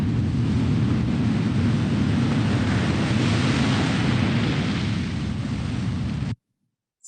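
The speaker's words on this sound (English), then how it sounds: "So just the power of those waves as they come up." Large storm waves break on the beach at Blowing Rocks Preserve, Florida, in a loud, continuous surf roar with rushing wash and no voices. The sound ends abruptly.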